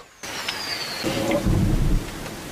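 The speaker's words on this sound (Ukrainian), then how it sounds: "Повільні роздуми про майбутнє перериває аж надто схожий на реактивні старти звук" Distant rocket artillery launches rumble like thunder, a low, heavy roar that swells and fades over about a second against a steady outdoor background.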